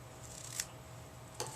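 Scissors snip twice through ribbon tails on an A2-sized card box, two short crisp cuts about a second apart, close and quiet with no talking.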